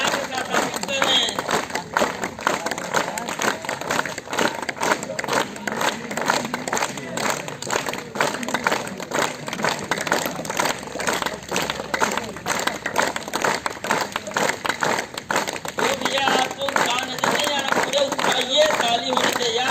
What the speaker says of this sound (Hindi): पूरे उत्साह के साथ ताली बजाइए।